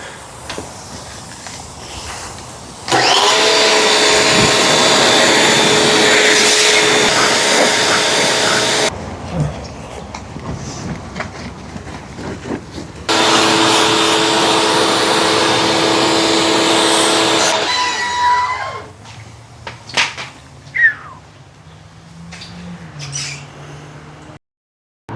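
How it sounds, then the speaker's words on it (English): A pressure washer roars in two long, steady bursts of hissing spray against an R34 Skyline, with a whining motor tone, separated by a quieter pause, ending in scattered squeaks and clatter. "give this thing a big spray down with the pressure washer"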